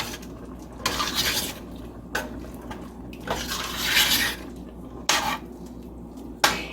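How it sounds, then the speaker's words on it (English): Green chili chicken enchilada filling with black beans and fresh lime juice is stirred in a pan, several bursts of wet scraping and clinking from the utensil against the pan with quieter gaps between strokes, no talking. "Then we're going to just stir it together."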